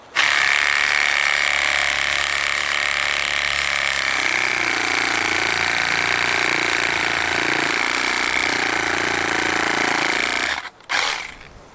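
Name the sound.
Milwaukee power tool cutting a tree branch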